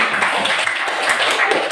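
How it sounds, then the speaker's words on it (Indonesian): Classroom applause from students filling the moment, a dense continuous patter of many hands clapping at steady loudness with no talk over it. "Oke, beri tepuk tangan dulu untuk semua."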